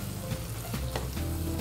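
Pasta stirred in a hot pan, sizzling and frying steadily with soft scraping of the stirring utensil, close and continuous with no talk.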